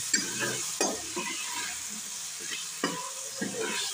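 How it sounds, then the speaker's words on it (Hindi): Mungre, a radish-pod vegetable, stirred in a pan with hot oil, giving a soft continuous sizzle broken by a few sharp scrapes and clinks of the spoon, close up with no talk. "अब इनको चला लेंगे।"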